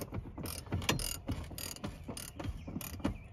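A ratchet with a socket clicks close up in a quick series of short cranking strokes during an airbag module replacement on a 1999–2006 Chevy GMC truck or SUV.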